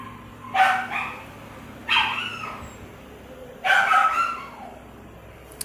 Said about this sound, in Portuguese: Ignore meus cachorros latindo aí no fundo.